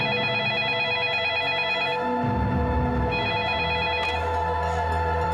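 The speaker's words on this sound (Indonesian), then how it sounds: "ada telepon dari Mas Jito." A telephone rings in a drama scene, a steady repeating electronic tone sounding throughout against a low background hum.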